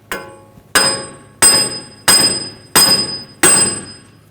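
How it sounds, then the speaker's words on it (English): Six sharp metallic hammer blows strike the back of a seized front wheel hub on a 2011-2018 Volkswagen Jetta, evenly spaced about two-thirds of a second apart, each loud impact ringing briefly before the next. "Now just take a hammer and just hit it from the back side."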